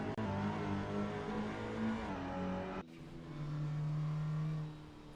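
A touring race car in a sim racing game drives through Shell Curve, its engine droning steadily, shifting down abruptly midway and then holding a lower steady tone before easing off.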